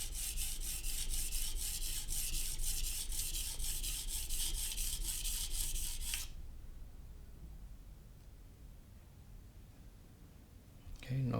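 A knife being sharpened on a sharpening stone, heard as a steady rhythmic rasping stroke for about six seconds before it stops, leaving quiet room tone and a brief scrape at the end.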